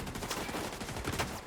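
Rapid video-game gunfire crackles in dense overlapping bursts, loud and continuous, with several weapons firing at once.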